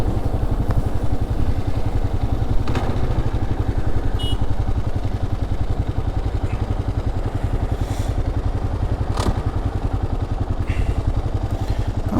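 A motorcycle runs steadily underneath at close range while out riding in Johannesburg, as the gearbox slips into neutral between second and third, its engine a low, even rumble with faint clicks and rattles and no clear rise or fall.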